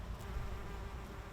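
Wild bees buzz around flowers in a planted field, a close, steady insect drone with a low hum and no voices.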